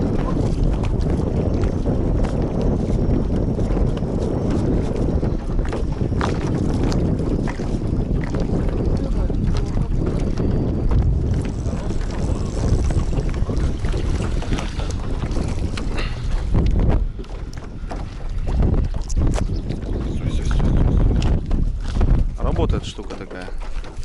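Wind gusting across a lake around a small fishing boat, with choppy water slapping the hull; a steady, loud roar of wind and microphone buffeting fills the whole stretch, with a brief lull near the end.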